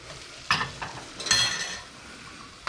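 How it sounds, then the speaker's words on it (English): Flour whisked into melted butter in a pot for stovetop mac and cheese, heard as a few brisk scraping whisk strokes with a soft sizzle underneath, close and fairly quiet. "We're going to whisk in the flour"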